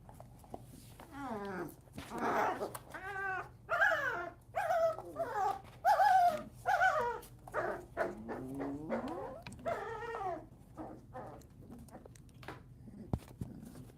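Wild dog puppies play-fighting on a wild dog reserve, giving rapid growls mixed with high whining yelps and squeals that come in bursts throughout, close and fairly loud.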